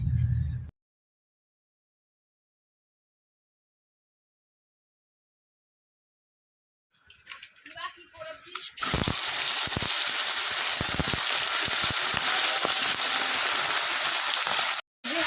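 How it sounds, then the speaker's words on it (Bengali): Tilapia rubbed with turmeric and salt goes into hot oil, setting off a loud, steady sizzle after a brief noise and a long silence. The sizzle runs for several seconds and cuts off briefly near the end. "এবার চলো তেল গরম হয়ে গেছে মাছটা দিয়ে দিই"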